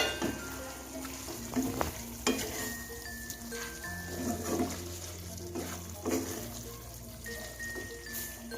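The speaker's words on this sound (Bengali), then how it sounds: "এবার আমি এটা ভালো করে নেড়ে নেব।" Methi chicken curry with kewra water gets stirred in a pan, soft intermittent scrapes and light sizzling at low volume, faint and fairly close.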